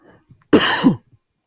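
A single loud, harsh cough close to the microphone, lasting about half a second amid near silence.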